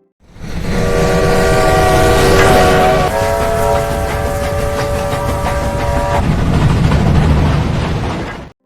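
A train sounds a long, loud, sustained horn that shifts pitch partway through, over a steady rumble of rolling rail cars as troops depart northward toward the Chinese-Korean border, the blast fading off near the end.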